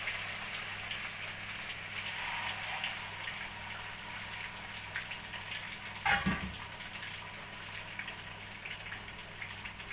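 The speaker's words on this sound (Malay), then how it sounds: "Kita goreng ikan kita separuh masak, tak perlu masak lama sangat." Tuna pieces coated in turmeric frying in hot oil, a steady soft sizzle and crackle heard alone at low level, with a brief clatter partway through.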